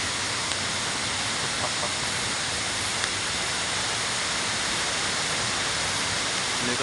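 A forest waterfall roars as a steady, dense wash of rushing water, loud and close, filling the whole stretch without pause, with no talk heard.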